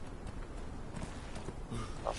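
Horse hooves clip-clop steadily in the game Conan Exiles on the Isle of Siptah, a soft, continuous patter of footfalls under a busy ambient background, with no talk.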